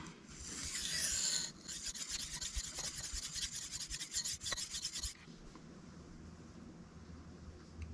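Cold Steel Mayhem knife blade stroked across a Sharpal 162N sharpening stone, a close, raspy grinding in a series of quick back-and-forth passes, brighter and harsher at first, then fading to quiet room tone near the end.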